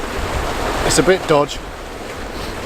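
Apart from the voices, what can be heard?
tide waves splashing on rocky beach, Somerset coast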